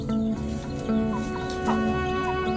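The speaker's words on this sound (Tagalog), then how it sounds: "Yung apat na idol, yung apat na sisiw natin, ayan yung inahin, yung nakaitim." A black hen with four chicks clucking on a farm, steady close clucks with a repeated higher call, soft chick peeps in between.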